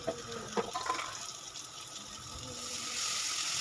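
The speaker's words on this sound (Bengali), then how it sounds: "তারপর একটু জল দিয়ে মশলাগুলোকে ভালো করে একটু কষায় নিচ্ছি।" A small splash of water goes into a pan of frying spices with salt, turmeric and chili powder while okra and taro are cooked with potatoes, giving a soft steady gushing and trickling that builds slightly toward the end.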